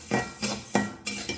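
Horse gram dry roasting in an oil-free pan on a stove, stirred with a metal utensil that clinks and scrapes against the pan in four or five rhythmic strokes, close and moderately loud.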